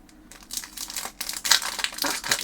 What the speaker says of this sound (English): That's quite a tough bag to open, that one.